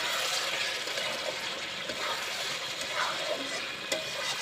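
Dhaba-style chicken bhuna masala sizzling and frying in a pan while being stirred, a steady close hiss with faint scraping and no talk.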